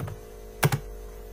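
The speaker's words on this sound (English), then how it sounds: "I will type one more condition" Code being typed on a computer keyboard: two quick close key clicks in rapid succession over a steady low electrical hum, with no voices.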